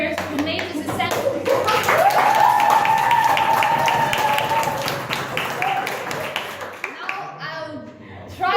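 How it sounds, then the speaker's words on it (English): A crowd at a debate event claps for the debaters, the clapping dense and moderately loud, with a sustained tonal sound and a murmur of voices running beneath it. "Round of applause for all our debaters who made this essential."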